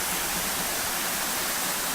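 A waterfall flows past both sides of a temple chapel at Wat Mae Kampong near Chiang Mai, a loud, continuous broadband rush of water with no breaks or voices.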